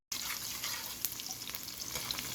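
Chopped onion and garlic frying in a pan for fried rice, a close, steady sizzle with light crackles and a faint stirring scrape, no talking.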